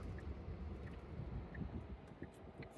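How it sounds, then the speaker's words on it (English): Steady low rumble of wind buffeting the microphone inside or around a 2018 Tesla Model S 75D, continuous and fairly quiet, with no voices. "Extra windy today."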